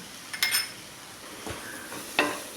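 Turmeric and spices in a pan for vendakka mappas being stirred, spoon scraping in a few sharp clinks over a faint sizzle, close and quiet.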